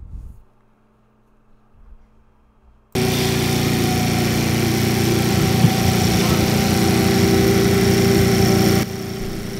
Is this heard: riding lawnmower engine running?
yes